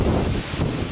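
Wind gusting across an open farmyard where ducks, geese and chickens roam, a dense, rumbling roar of broadband buffeting that stays loud and steady for under a second, with no voices.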